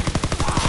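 A short burst of light machine gun fire in a WWII video game, rapid evenly spaced shots, loud and close, with no talk.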